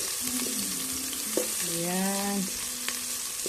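Garlic sautés in a hot frying pan, giving a steady loud sizzle and crackle that runs through the whole moment, with a brief stir near the middle.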